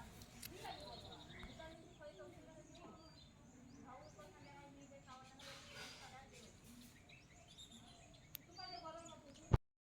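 Birds chirp and call through a rural Konkan village morning after a night cyclone, many small overlapping tweets over a steady outdoor background, with a sharp bump near the end.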